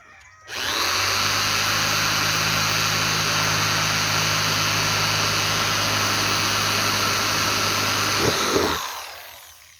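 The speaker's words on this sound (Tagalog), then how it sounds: "And drill." A power drill boring a pilot hole in a plastic bucket for a chicken waterer, a loud, steady whine that starts abruptly, runs for about eight seconds and then stops.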